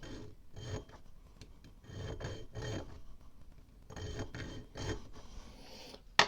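A hand file rasps across a key blank as it is impressioned for a Yale 5-pin rim cylinder, making a series of short, close scraping strokes in bursts with brief pauses between them.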